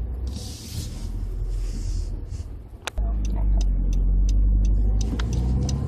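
Interior of a 2014 Honda Civic Si with a manual transmission heading out onto an open road: steady low engine and road rumble that thickens after a sharp click partway through, with faint ticking sounds on top.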